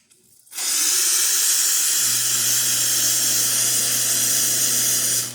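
A steady, loud hiss of hot water jetting from a Lelit Bianca espresso machine, starting abruptly and holding constant, with a low hum joining partway through.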